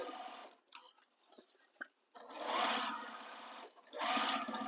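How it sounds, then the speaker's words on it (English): A sewing machine stitches the side edge of a sling bag in two close, steady bursts, separated by short pauses with soft fabric-handling clicks. "And then I'm going to sew the other side edge."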